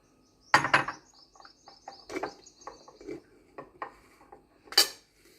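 A spoon clinks against a bowl while a no-oven cake mixture with milk is prepared; one bright double clink comes first, then a string of lighter taps and scrapes, ending in another sharp ring.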